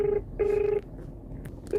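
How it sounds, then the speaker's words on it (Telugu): A phone ringback tone sounds while calling a customer for a ride pickup: short steady beeps in a repeating pattern, moderately loud over faint background noise. "కస్టమర్ ఫోన్ లిఫ్ట్ చేస్తలేరు"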